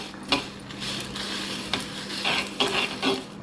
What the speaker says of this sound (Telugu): చిట్చిట అంటాయి చూడండి చిట్చిట అంటున్నాయి కదా